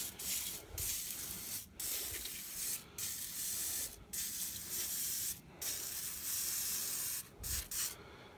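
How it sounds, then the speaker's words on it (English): Gunk engine degreaser sprays in long hissing bursts over a Jeep Cherokee XJ engine, each spray broken by a short pause, close and steady. "going to finish spraying this down"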